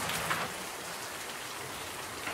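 Rain falls in a steady, even hiss of many drops hitting surfaces, constant throughout with no voices or other sounds.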